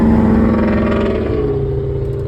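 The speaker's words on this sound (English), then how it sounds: "Loud exhaust. No one cares." A loud exhaust on a passing vehicle roars close by, a heavy engine drone that holds steady and then eases slightly in pitch as it moves away.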